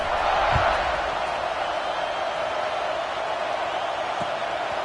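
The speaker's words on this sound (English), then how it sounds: "this crowd is buzzing after that last score." Stadium crowd in a College Football video game, a steady broad roar filling the whole clip at moderate loudness, with a couple of faint thumps near the start and the end.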